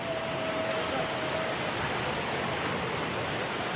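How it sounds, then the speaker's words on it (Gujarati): A waterfall at Mahal roars in a dense, steady broadband hiss with no breaks, heard alone. "આ ધોધ તમે જોઈ શકો છો"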